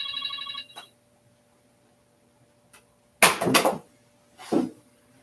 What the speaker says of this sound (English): Of course, my phone rings during a show.